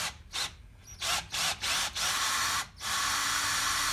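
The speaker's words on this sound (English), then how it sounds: "I've also slowed the drill down." A slowed 6.5mm drill boring a hole in a locker diff during fitting, with blunt bits, in short, close bursts of high whirring, stopping and starting several times before a longer continuous run.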